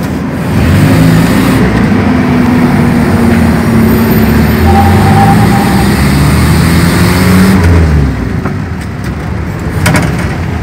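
A Toyota 4K engine fitted with a motorcycle carburetor drives along a road, a loud, continuous engine drone with steady road noise and a slight rise and fall in pitch, followed by a few faint knocks near the end.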